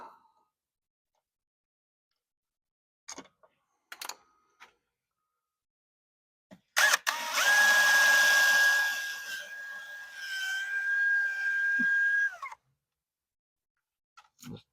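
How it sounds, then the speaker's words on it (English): Power drill boring a hole into a thick boat transom, a single sustained whining run of about six seconds with a steady pitch, preceded and followed by a few faint handling clicks in otherwise quiet surroundings. "and drill it."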